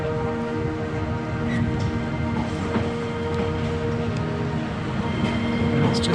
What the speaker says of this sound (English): It's just a veritable tramway of bloody trains and things with a pretty cool station.